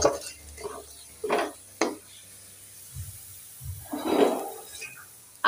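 Potato, lentil dumplings and cabbage are added to hot oil in a home kitchen, with scattered clinks and stirring scrapes, short bursts of sizzle and light utensil knocks between quieter moments.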